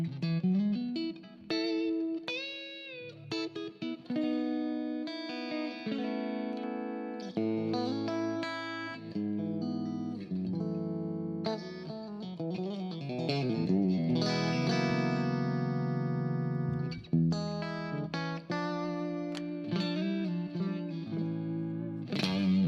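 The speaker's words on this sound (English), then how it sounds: "This is the default reverb." An electric guitar played through the default hall reverb on a Fractal AM4 amp modeler, with picked notes and chords ringing out into a smooth, lingering ambient tail, steady and alone.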